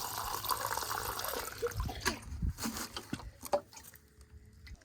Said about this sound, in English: Then you just fill it with water and put the potato back in.